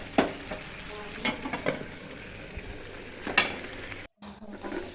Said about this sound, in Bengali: এইটা আমি সবজিটা বাগার দিয়ে নিই।